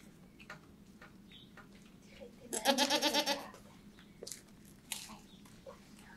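A goat bleats once in a loud, wavering call from nearby on a spring trek through the Bucheggberg, amid quiet outdoor ambience with a few soft rustles and clicks.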